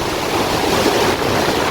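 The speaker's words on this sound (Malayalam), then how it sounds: "ആ വെള്ളം വന്ന് കരക്കടിക്കുന്ന ഫോഴ്സ് കണ്ടോ? നല്ല ഫോഴ്സിലാണ് വന്ന് കരക്കടിക്കുന്നത്." River water at Pechippara Dam, Kanyakumari, driving hard against the shore in a thick, constant roar heard from some distance, steady and unbroken without any speech.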